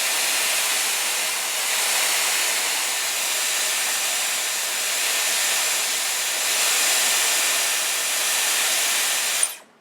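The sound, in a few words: Dyson Airwrap hair styler blowing on cool shot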